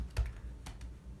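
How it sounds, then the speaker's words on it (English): A few quick clicks of keys on a computer keyboard, close and fairly soft, as an SSH command is typed into a terminal. "open a terminal real quick here and just type in SSH root at localhost"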